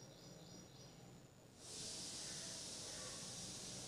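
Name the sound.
puris frying in hot refined oil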